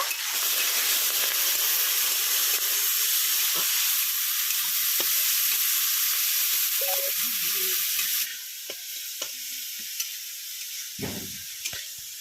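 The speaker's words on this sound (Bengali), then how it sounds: "এবার মাছটাকে আমি ভেজে নেব।" Fish seasoned with salt and turmeric frying in hot oil, a steady loud sizzle that drops to a softer crackle partway through, with a few light clinks and stirring knocks over it.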